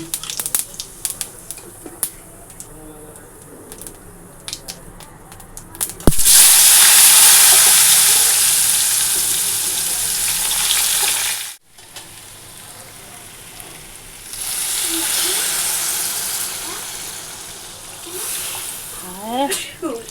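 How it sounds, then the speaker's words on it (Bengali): Four pieces of fish frying in oil tempered with cumin seeds, a loud continuous sizzle and hiss that surges in, drops out briefly, then returns, with a few clinks and faint voices at the start. "আর এই যে মাছ ভাজা বসিয়ে দিয়েছি চার পিস দিয়েছি"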